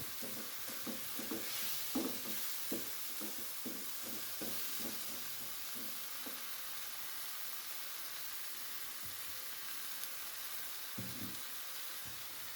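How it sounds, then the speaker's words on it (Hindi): A spoon stirring spiced vegetables with chili flakes in a hot pan, with a steady frying sizzle and hiss under a run of sharp scraping clinks that come in quick succession, then thin out to occasional knocks. "और बस आप इसको साथ साथ चम्मच को हिलाते रहे कि ये जो मसाले हैं ना, इसका टेस्ट सारा वेजिटेबल में आ जाए"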